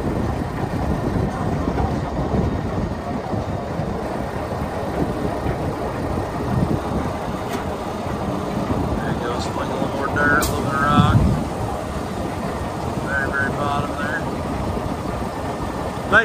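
A 2007 RODA R2000 spreader runs with its beaters turning at the bottom of the box, throwing out dirt, making a steady dense mechanical rumble and clatter that stays continuous with a few brief higher squeaks.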